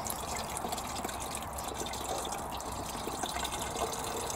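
Comfrey tea drains from a container in a steady trickle and splash, close and soft, running continuously with no talk.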